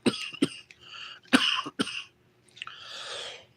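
Several sharp coughs come in quick bursts, close and loud, followed by a raspy breathy exhale near the end.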